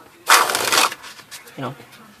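A deck of playing cards being shuffled at the start of a card flourish: a dense riffling burst lasting about half a second, then a brief softer sound, close and clear with no talking.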